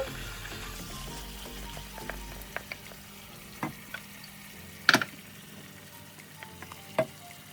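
Chicken curry with cashew and melon seed puree being stirred in a pan, a soft steady sizzle under scattered clicks and scrapes of the spoon, with one louder knock partway through.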